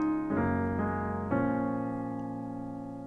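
Solo piano plays the accompaniment to Labrinth's "Jealous" with both hands, three sustained chords struck in a slow sequence, the last left ringing and fading, close and clear with no talking.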